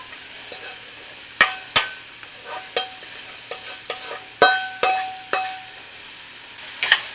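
Zucchini and golden-browned onions are sautéed in a pan, with repeated sharp clinks and scrapes of a utensil against the metal over a faint sizzle, the strokes coming in an irregular rhythm.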